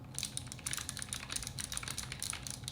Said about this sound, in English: the keys are actually something I've never experienced before. Mainly because of how clicky they are